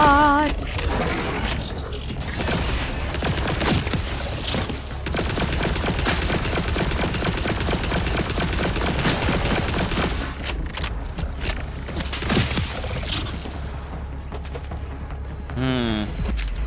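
Rapid gunfire from a weapon in Borderlands 4 on PS5, a steady dense fusillade of shots running almost without pause under game effects, with mechanical clicks and a brief voice near the end.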